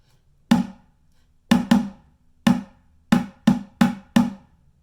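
Eight sharp bucket drum hits play a syncopated groove, each dry, close and punchy, with short gaps and silence between the clusters.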